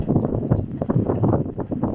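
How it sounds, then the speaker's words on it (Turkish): Strong coastal wind at Kalkan/Patara, Turkey buffets the microphone in heavy, uneven gusts, rumbling loudly and close throughout. "Çok rüzgar var ya."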